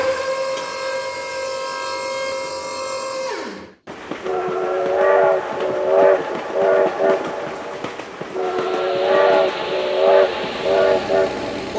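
Train in the BeamNG Drive driving game, a long loud horn blast that cuts off abruptly, then rumbling wheels and repeated horn calls as the train passes, with a voice heard amid it.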